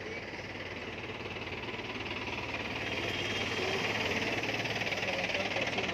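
Many tractors at a farmers' tractor march in Patiala city, their engines idling in a steady, loud, rumbling knock that swells slightly toward the end, with no clear talk.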